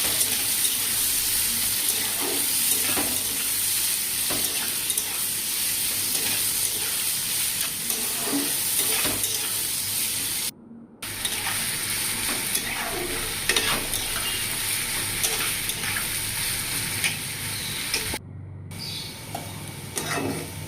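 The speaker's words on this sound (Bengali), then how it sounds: "সবজিগুলোকে ভেজে নিচ্ছি ভালো করে।" Vegetables and scrambled egg sizzle steadily in a pan while being stirred for beetroot pasta. Scraping and tossing sounds recur close up throughout, broken by two brief silent gaps.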